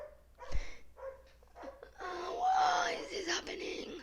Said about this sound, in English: he's barking again